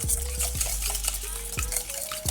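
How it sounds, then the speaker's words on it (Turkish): A spicy sauce for crispy fried shrimp being stirred in a pan, a series of soft scraping strokes and light utensil knocks at a steady pace, close and quiet, with a faint background hum. "hepsini karıştırıyoruz"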